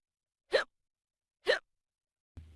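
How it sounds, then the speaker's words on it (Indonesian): Two short, sharp hiccups about a second apart, each a quick isolated burst near the listener, followed by a brief low thump at the end; no talking. "Hiccup artinya membuat suara berulang-ulang di tenggorokan."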